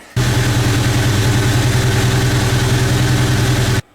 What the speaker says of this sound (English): I'm still having a misfire